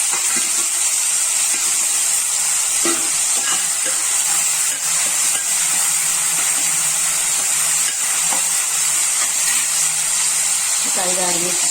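Two large onions frying in hot oil in a pan for a Telugu phool makhana gravy curry, a steady loud hiss and sizzle throughout with small crackles, no talk heard.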